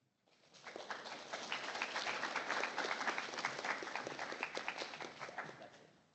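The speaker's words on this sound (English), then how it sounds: "Yes, another round of applause." Audience applause for a student presentation at a school project event, a dense, steady patter of many hands clapping that swells in quickly and holds for about five seconds before thinning slightly.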